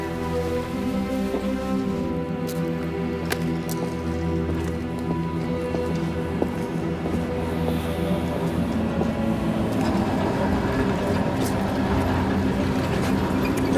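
A tram rumbles through a stop with a continuous low mechanical drone and layered hum, steady and fairly loud throughout, with scattered clicks and rattles from the wheels and carriage.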